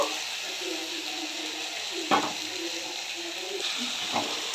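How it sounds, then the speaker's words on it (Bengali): Cumin and green chilli paste frying with tomato in a pan for a rohu fish curry, a steady close sizzle and hiss broken by a few soft stirring scrapes. "সামান্য একটুখানি জল দিয়েছি, একটু ভালো করে বেশ কষিয়ে নেব"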